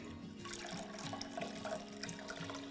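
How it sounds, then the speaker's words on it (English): Tap water splashes and gurgles steadily as it pours out of a container, close by, with a continuous liquid rush and no voices. "now I'm just going to pour the waters away"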